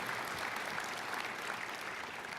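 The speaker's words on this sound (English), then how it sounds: "Let's give them another round of applause" Steady applause from the audience at an evening awards gala and anniversary celebration, a dense, even wash of clapping held at a constant level throughout without any talk over it.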